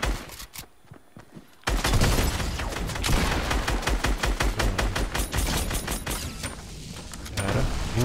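Dense bursts of automatic gunfire from the video game Fortnite, rapid overlapping shots firing almost continuously after a brief quiet opening, loud and close with some distant reports mixed in.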